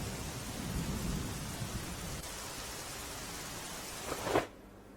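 Heavy rain pours down in Dahod as a steady, dense hiss of water, loud and continuous, with a brief surge near the end before it cuts off.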